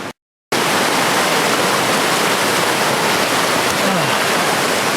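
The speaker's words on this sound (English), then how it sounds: "That's the Panther Creek. Running into the Conasauga River." Panther Creek rushing into the Conasauga River in a wilderness setting, a steady, loud broadband wash of flowing water that continues unbroken after a brief silent gap at the start.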